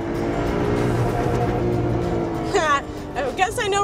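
A Formula race car engine revs hard and climbs toward the rev limiter in a couple of sharp rising and falling sweeps, close and loud, after a steady drone with a voice speaking over it.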